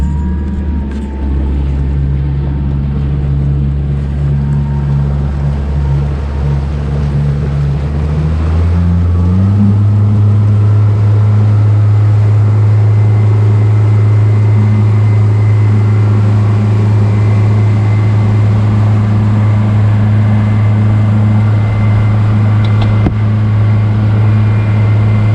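A Yamaha vehicle engine idles and warms up on a beach outing, a steady close drone whose pitch steps up partway through and then holds a constant higher hum.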